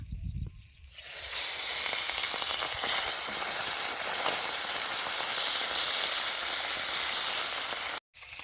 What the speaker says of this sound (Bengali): এবার ট্যাংরা মাছ করে ভাজি নেবো